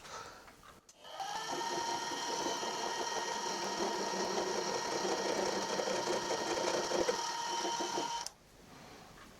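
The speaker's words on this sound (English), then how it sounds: "So I'm going to take the end mill and just clear out that a tiny smidge." A 5/8 end mill cuts into a cast base on a milling machine, making a steady close whine with a gritty cutting texture that starts abruptly and runs for several seconds before stopping.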